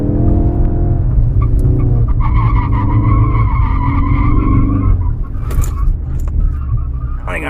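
A Ford Focus RS drifting on a course in South Africa, with tires squealing and skidding in long wavering whines over a steady engine roar, close and loud from inside the car.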